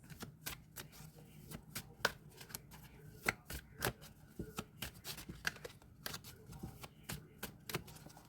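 Playing cards are shuffled repeatedly at close range, a series of quick riffling flutters and soft slaps in an uneven rhythm, fairly quiet.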